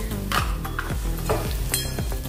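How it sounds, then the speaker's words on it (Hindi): Spinach and radish curry stirred in a pan with coriander, cumin, turmeric and red chili powder, a spoon scraping through it in steady strokes about twice a second over a continuous soft sizzle. "इसको सब मिला देंगे अभी अच्छे से।"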